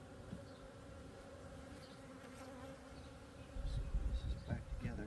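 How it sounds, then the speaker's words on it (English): Bees hum steadily around a backyard apiary hive in late March, a faint continuous buzz with passing individual bees, joined near the end by louder handling noise. "They got a lot of bees coming"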